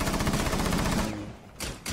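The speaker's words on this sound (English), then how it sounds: "Shooting." Rapid automatic gunfire from the video game Rainbow Six Siege rattles out in a dense, loud burst for about a second, fades, then a short sharp second burst follows.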